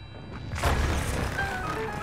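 A bomb detonates in Zelda: Breath of the Wild, a single loud boom that swells quickly and then trails off into a sustained rumbling wash, with no voices over it.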